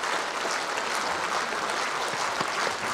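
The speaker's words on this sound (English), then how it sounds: "Big applause again." A concert audience at a Mongolian music show applauds in a steady, dense roar of many clapping hands, continuous and even from start to finish.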